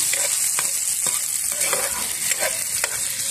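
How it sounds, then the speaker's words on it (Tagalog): Onions sautéing in a pan over charcoal, a steady close sizzle with occasional stirring scrapes and clicks, no talking. "Pag gigisa niyo guys yung yung sibuyas, hindi naman totally siya luto, kailangan medyo caramelized looking siya"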